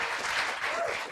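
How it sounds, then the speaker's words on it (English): A morning summit audience claps for a visiting theater troupe: a short, dense burst of applause at moderate level, steady throughout with no pauses. "Can we give them a huge round of applause?"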